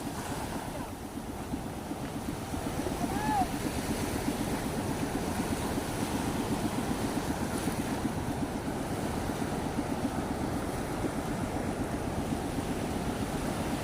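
Sea waves and surf wash steadily around a small boat at sea, with broadband water and wind noise throughout, close to the microphone, as a fisherman heads back out to work.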